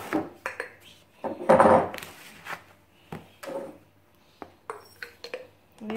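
A large 50 ml spoon scoops white laundry powder from a pot, giving a few scrapes and clinks of the spoon against the container, close up, with short taps spread across the moment and no talking.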